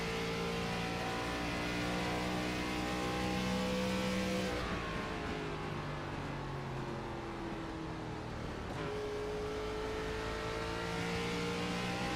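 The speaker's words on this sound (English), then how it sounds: "So that downshifting right there, it seems like it's giving him a better drive off." Onboard race car in a BTDY Florida Skin Doctor Racing Series race: a steady, droning engine note drops abruptly in pitch twice as the driver downshifts into a corner, then climbs again under load.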